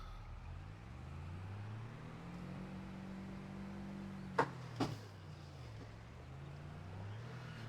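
A truck backing out in Farming Simulator 25, a low engine drone rising and falling in pitch as it maneuvers, with two short sharp clunks near the end.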